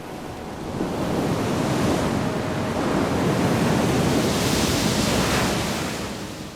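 Sea surf pounds against coastal cliffs beside a natural pool used by young fur seals, a steady loud roar of breaking water that swells and fades with a wind-like hiss.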